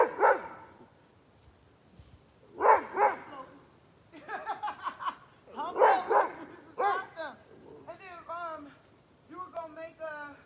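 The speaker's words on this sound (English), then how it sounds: "Ooh, dog." A dog barks and yips in short bursts at moderate distance, mixed in with excited talking from people nearby.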